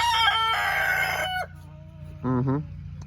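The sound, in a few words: rooster crowing on a homestead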